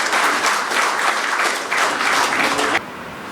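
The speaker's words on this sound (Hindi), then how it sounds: "जोरदार तालियों से इनका सम्मान करें" Loud, dense applause from an audience at a Hindi poetry gathering, steady and close for about three seconds before it drops off sharply.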